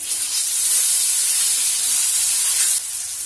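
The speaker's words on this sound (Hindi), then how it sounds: "आलू को हमें थोड़ी देर फ्राई करना है, 3 से 4 मिनट।" Garlic and potato pieces fry in hot oil in a pan, giving a steady, close sizzling hiss that drops slightly near the end, with no talk.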